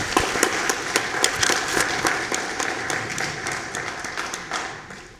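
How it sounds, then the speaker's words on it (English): An audience applauds ANB and ANS Camp 14 at a Grand Camp convention hall in Ketchikan, Alaska: dense, steady clapping from many hands fills the room for about five seconds, tapering slightly at the end. "a round of applause for Camp 14"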